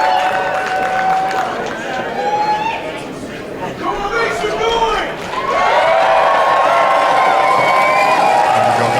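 A wrestling crowd at a live Dungeon Wrestling indoor event cheers and whoops steadily, a loud continuous roar that dips briefly and swells again, with a commentator talking over it.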